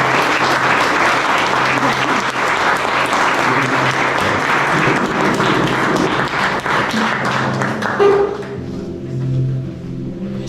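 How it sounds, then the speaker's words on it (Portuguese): A church congregation applauds with loud, dense clapping that holds steady for about eight seconds before fading to scattered claps and room murmur. "Dá uma salva de palmas para Jesus."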